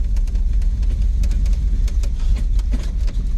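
Engine of a wrecked 1987 GMC 4x4 pickup running, a loud steady low rumble with a faint irregular ticking layered on top, close and without speech.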